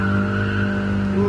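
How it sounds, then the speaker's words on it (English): Tire squeal from the racing video game Gran Turismo Sport played in VR: a sustained, loud tonal screech over steady engine drone, lasting the whole moment without a break, no talking. "Ooh, squealing."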